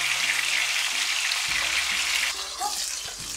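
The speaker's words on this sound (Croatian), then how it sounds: "Piletinu pržimo sa jedne i sa druge strane da se nakon na naglo zapeče" Boneless chicken pieces sizzle in a hot pan as they sear on both sides, a loud, continuous crackling hiss that thins slightly near the end, with a low hum underneath.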